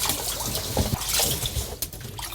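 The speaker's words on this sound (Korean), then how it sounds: "물을 충분히 받았으면 요거는 그렇게 더러운 게 아니니까 살랑살랑 흔들어 갖고 한 2번 정도만 헹궈 주시면 됩니다" Salted napa cabbage swished and shaken by hand in a basin of water, giving steady close sloshing and trickling splashes with brief drips, no talking.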